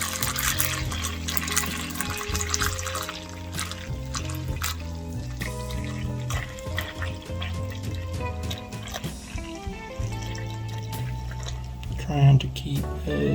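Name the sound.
whey being poured through cheesecloth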